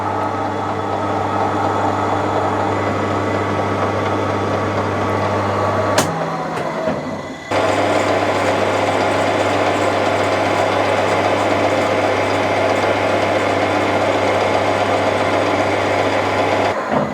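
A drill boring a 2.6 mm hole through a shaft in a workshop gives a steady motorized whine that runs continuously, briefly cutting out for a second midway before starting up again, close and loud with no voices.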